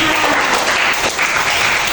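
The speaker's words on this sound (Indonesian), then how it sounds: "Beri tepuk tangan dulu buat Ervin sama Rahma." A classroom group claps for two students, a dense burst of applause that stays full and steady throughout with no break.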